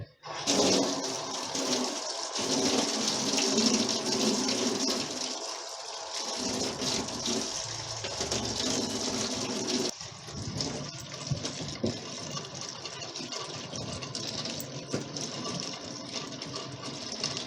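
Steady gush of tap water runs while a banana stem, grown without chemicals, is washed clean for a pork rib curry, loud and continuous throughout with a slight change in tone partway.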